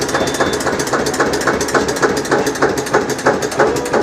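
An Eicher 242 tractor with power steering and four new tyres runs its engine in reverse gear, giving a steady loud diesel rumble with regular rhythmic mechanical knocks throughout, no talk over it.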